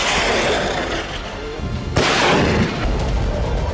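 Rockets and missiles are fired in a wartime barrage, heard as continuous loud roaring rumble with a sharp blast near the middle.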